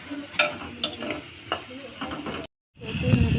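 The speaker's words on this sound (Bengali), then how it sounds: "তো এই যে নুডলস রান্না করতেছে আমার বান্ধবী।" Noodles cooking in a pan, with clattering stirring strokes over a steady frying hiss, a brief dropout, then a louder, fuller sizzle and rattle at the end.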